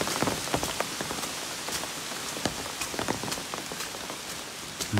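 Heavy rain patters onto a surface along a soaked stretch of the Appalachian Trail, dense close drops with scattered louder taps, steady and alone without speech.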